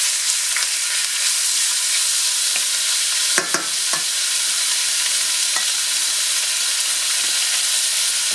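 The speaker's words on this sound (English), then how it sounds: "Now we're going to add our pork. We are going to give this pork some time so that it will cook and get very tender." Pork for shrimp and pork chop suey sizzling steadily in a hot pan, a loud, even frying hiss throughout with a couple of brief clinks of stirring partway through.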